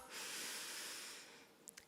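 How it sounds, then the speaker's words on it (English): A roomful of conference audience members draw one collective breath in through the nose at a property expo keynote. It comes as a broad, soft, sustained airy hiss that swells and then slowly fades, with a couple of faint clicks near the end. "breathing in through our nose"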